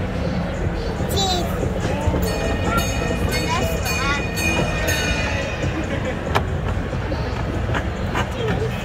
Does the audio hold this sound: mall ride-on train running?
yes